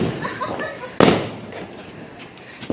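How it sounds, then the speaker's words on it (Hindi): A Diwali fountain firework is lit: a sharp, loud burst followed by a fading hiss and crackle, then another pop near the end, with voices in the background. "ये देखो मेरे चाचा फुहारा चलाएंगे"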